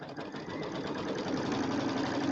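A sewing machine, likely an embroidery machine, sews out a batting placement line with a steady, rapid mechanical hum and rattle, fairly quiet and continuous without talk.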